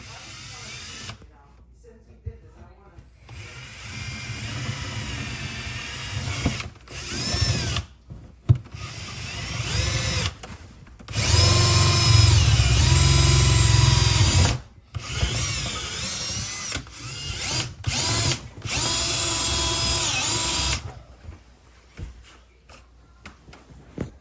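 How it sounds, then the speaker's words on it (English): A power drill whines in several bursts of varying length, the longest grinding deeply as it bores through a house wall, with pauses and handling noise between. "So I just gotta find the right spot, drill it through"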